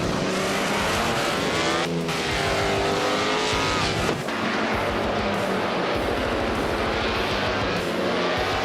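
A 1954 Mercedes-Benz W196 race car in a racing video game, its engine a loud, continuous, high-revving drone that shifts pitch as the car accelerates and changes gear, with no talk.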